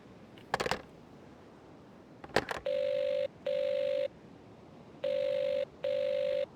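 In the Evil Under the Sun video game, a few sharp clicks of a telephone handset come first. Two pairs of steady, buzzy double-ring tones on the line follow, loud and even, with a quiet hiss beneath.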